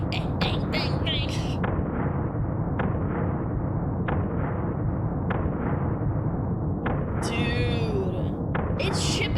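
Rapid gunfire in a fast-paced shooting game, with sharp repeated bangs in quick bursts over a dense, steady roar of battle noise.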